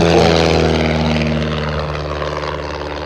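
A Chipmunk propeller aircraft flying aerobatics gives a loud, steady engine drone with a strong propeller buzz, close at first and easing slightly as it moves off, with no talk.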